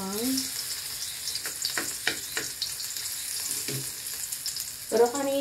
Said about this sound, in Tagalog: Kapupula-pulahin muna natin ang ating bawang.